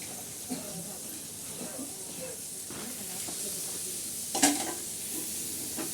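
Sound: green chili and garlic thecha frying on griddle over stove

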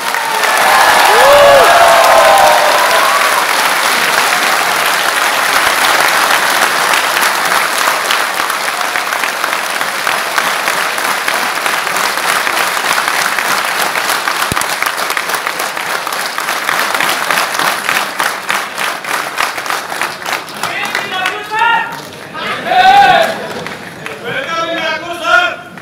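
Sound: loud audience applause

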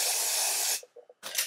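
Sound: spraying black spray on wig lace

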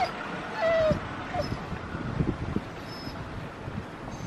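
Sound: excited dog whimpering

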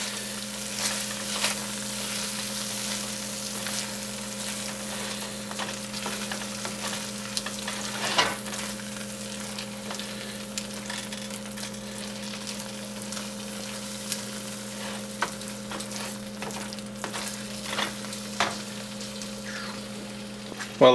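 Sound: stirring risotto in a pan

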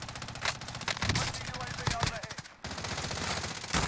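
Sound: gunfire in a Call of Duty zombies video game

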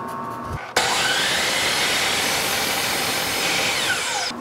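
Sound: cutting wooden cleat pieces

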